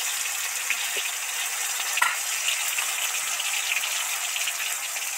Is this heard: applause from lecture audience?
no